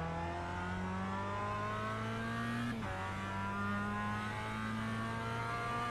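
A Mazda MX-5 in the iRacing simulator holds a steady droning engine tone through a corner at Tsukuba, dipping briefly as revs drop mid-turn then settling again, with faint tire noise under it.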